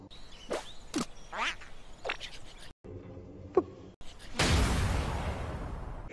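Quacks and snickering chirps come from the Duck Hunt duck and dog in Super Smash Bros. for Wii U, several short calls in a row, then a brief pause and a longer noisy burst of game sound.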